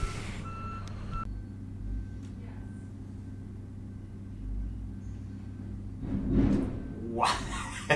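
A heavy truck wedged in a tight spot rumbles and idles nearby, with faint reversing beeps early on, a swell of engine noise near the end and a hiss of air brakes.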